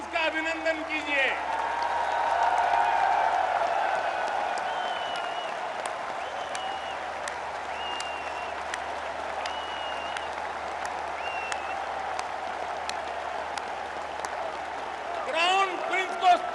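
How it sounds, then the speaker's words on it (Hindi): A large audience at a speech event in Dubai gives sustained, dense applause welcoming the Crown Prince. The clapping swells in the first seconds, then continues steadily. A voice speaks briefly at the start and end. "तालियों की गूंज से क्राउन प्रिंस का अभिनंदन कीजिए"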